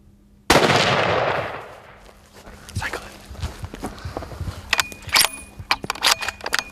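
A single loud rifle shot cracks out during an elk hunt, its echo rolling away over a couple of seconds, followed by close rustling, shuffling movement and handling noises.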